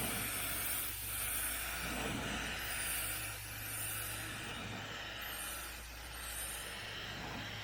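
A cheap Harbor Freight spray gun sprays primer onto a 1977 Malibu Classic's bodywork, giving a steady, fairly faint airy hiss that runs continuously with slight swells and no voices.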